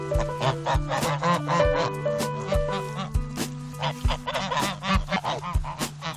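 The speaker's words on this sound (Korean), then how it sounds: "닭들에게 주려고 홍시를 땄는데 예상에도 없던 거위들이 다 먹고 있다" Geese honk repeatedly and loudly nearby while eating ripe persimmons on a farm with chickens and goats, overlapping calls in an irregular rhythm with scattered pecking clicks.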